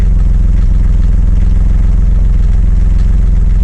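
A Yanmar F16D diesel tractor engine running close by, a loud, steady low clattering idle with an even rhythmic chug.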